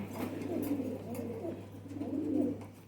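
A female Ferozpuri pigeon coos softly and up close, with low, rolling murmurs repeating in two or three phrases over a steady low hum.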